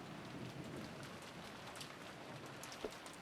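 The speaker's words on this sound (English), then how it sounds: "the sound of a downpour and rain" Heavy downpour rain in the video game Umineko, a soft, dense, even patter of drops with a faint distant rumble, steady and fairly quiet throughout, no one speaking.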